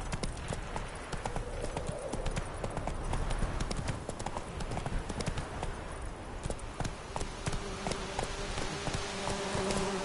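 A horse trots in The Witcher 3, hooves clip-clopping in a steady, brisk rhythm on the ground, accompanied by a constant buzz of insects and a brief voice.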